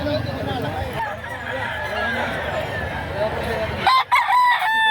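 Roosters crow and hens cluck amid a busy chicken market in Lipa, Batangas, with several birds calling close by over steady crowd noise and overlapping talk.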